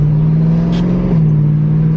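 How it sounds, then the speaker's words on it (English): A BMW E92 M3 with a loud aftermarket exhaust idles and revs close by, a strong steady low drone with a brief change in pitch midway. "the loud exhaust is so cool"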